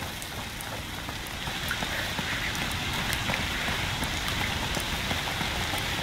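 A dense, steady patter of foul rain falls in A Plague Tale: Requiem, starting lighter and quickly swelling to a constant hiss with scattered sharp droplet hits.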